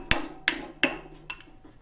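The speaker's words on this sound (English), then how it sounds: "You just take a rubber hammer" A rubber hammer beats metal over for homemade camping gear: three sharp, evenly spaced whacks, then a couple of lighter taps, close and clear with no talk.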